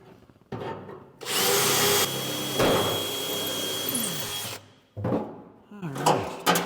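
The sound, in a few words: drilling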